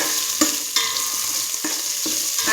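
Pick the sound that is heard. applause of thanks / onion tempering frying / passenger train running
onion tempering frying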